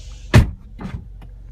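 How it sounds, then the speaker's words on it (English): A 2013 MINI Cooper S Coupe door slams shut with a single solid thud, followed by a couple of faint clunks and rustles in a quiet interior. "So shutting the door."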